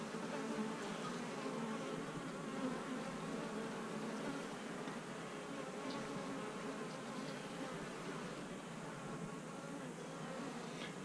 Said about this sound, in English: This would be plenty of bees.